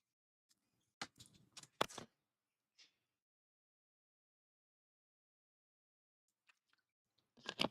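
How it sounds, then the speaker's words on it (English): A pet dog gnawing on a slipper indoors: several close, sharp crunching and clicking bursts in quick clusters, then a long silence and a final flurry of chewing noises. "Can you hear Annie chewing on my slipper?"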